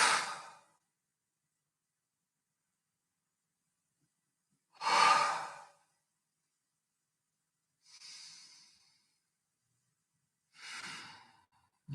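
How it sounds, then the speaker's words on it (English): Deep breaths during a guided breathing exercise: four long, airy inhales and exhales spaced several seconds apart, close to the microphone, with silence between them. "breathing deeply into the chest"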